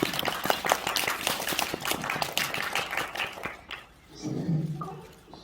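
A small group at a K-pop fan-sign event claps in quick, close, crisp bursts for about three seconds, then the clapping stops and a voice speaks.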